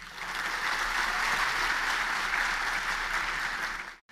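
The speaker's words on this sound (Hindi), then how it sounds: "ताली तो बजा दी आपने" An audience claps steadily for about four seconds, a dense, even wash of applause from a large crowd that cuts off abruptly at the end.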